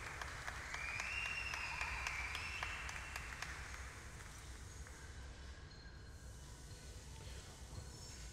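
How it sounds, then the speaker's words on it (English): Broad, steady applause from an audience at a live glassblowing hot shop demonstration, honouring a visiting glass artist and crew, heard at a moderate distance and slowly thinning out, with a faint high whistling tone early on. "Can we give a round of applause to our visiting artist down in the center, D.H. McNabb, but also the whole entire Hot Shop crew"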